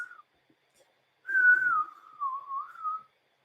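A person attempts to whistle on demand, producing a short wavering tone, a pause, then a longer breathy whistle that dips and rises before trailing off, heard alone in a quiet room.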